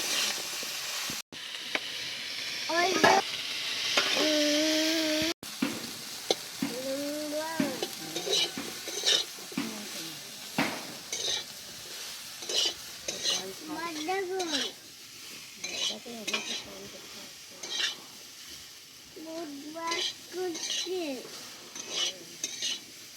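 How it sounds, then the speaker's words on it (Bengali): Cauliflower florets for a paneer and poppy-seed dish frying in a pan, with a steady sizzle under repeated scraping and stirring strokes and occasional utensil clatter. A few soft voices and background sounds come and go. "পোস্তর জন্য আমার ফুলকপি ভাজা হয়ে গেছে"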